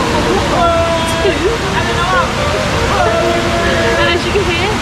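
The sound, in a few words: waterfall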